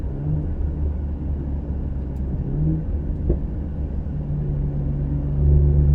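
A 2020 Ford Explorer ST fitted with a 3-inch Thermal R&D exhaust pulls under load up a hill at about 3,000 RPM, giving a steady deep droning rumble close by that swells louder near the end, with no talking.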